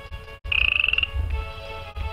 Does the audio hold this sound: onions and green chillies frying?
no